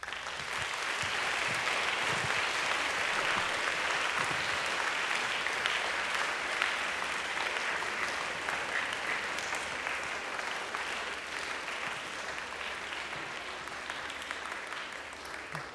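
A school assembly audience gives long, sustained applause, a dense, even roar of many hands clapping that holds steady for the whole stretch, close and full.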